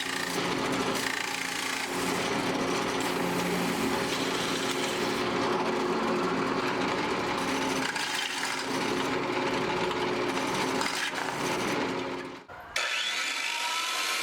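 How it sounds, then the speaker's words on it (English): A power drill bores holes straight through wooden shelves for a backpack hanger, a steady, loud grinding whir running nearly without pause, then cutting off abruptly near the end. "Drill the same holes for the middle shelf, except drill them all the way through."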